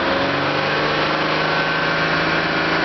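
BMW engine held at a steady, even drone as gas is applied, a continuous buzzing hum with no surging or clear rise in pitch.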